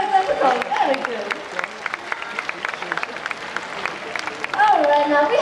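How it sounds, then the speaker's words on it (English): An audience at a bird show in Singapore applauds in a busy crowd patter, with a voice talking over it and bird calls chirping near the start and the end. "Give them all a big round of applause!"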